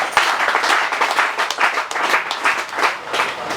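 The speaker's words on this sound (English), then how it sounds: "So a round of applause for this young man." A short round of applause for a young yam farmer at a state farming partnership event, a moderate crowd clapping steadily and close by, with no talk over it.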